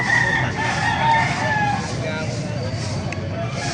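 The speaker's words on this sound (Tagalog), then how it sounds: "Gandang manok nito." A rooster crows amid a busy crowd at a market in Baliuag, the call rising over steady chatter and background voices close by.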